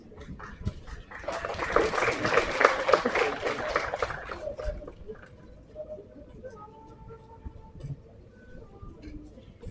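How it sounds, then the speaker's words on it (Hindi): Audience clapping at a Hindi Day celebration prize announcement, a loud burst of applause for about four seconds that then fades into quieter room sound. "जोरदार तालियां हो जाएं"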